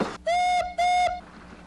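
A small lake steamer's steam whistle gives two clear, steady tonal blasts, the first about a third of a second and the second longer, loud and close, followed by a faint hiss.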